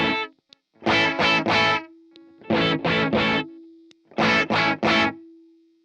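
Distorted electric guitar played through a Boss ME-80 amp model with a muffled, dark tone: three bursts of three quick strummed chords, each group separated by a thin sustained ringing note, loud and close.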